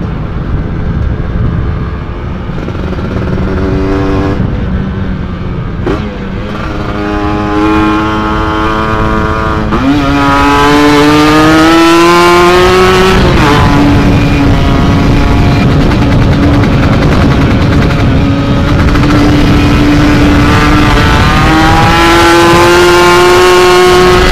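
A motorcycle fitted with a PWK 28 carburetor is ridden on a test ride carrying two people, its engine loud and close, droning steadily then revving up as it shifts through gears.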